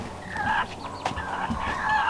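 Chickens clucking and murmuring close by, a steady chorus of soft calls with a few sharper squawks, no talking.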